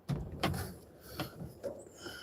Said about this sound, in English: I guess the door is trying to shut.